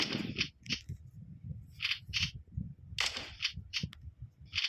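Gunshots in the Chicken Gun video game: faint, sharp, snappy cap-gun-like pops repeated in quick pairs and singles over a low game background, fairly quiet overall.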